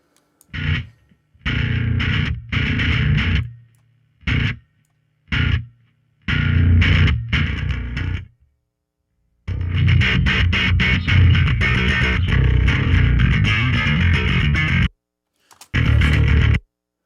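A gritty, distorted electric bass plays in choppy bursts separated by short silences, then a longer sustained stretch, loud and close.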